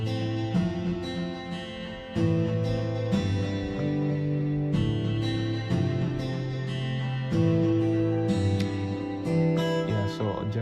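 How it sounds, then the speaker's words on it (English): Acoustic guitar layer from a beat, low-pass filtered to trim the bass, strumming sustained chords with regular changes every second or two, played alone at steady moderate loudness. "So we started with an acoustic guitar that sounds like this."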